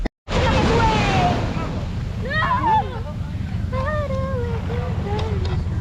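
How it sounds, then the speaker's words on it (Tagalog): A boat motor drones steadily on the water with wind noise, while people talk and call out over it nearby. "sasakay tayo ng bangka"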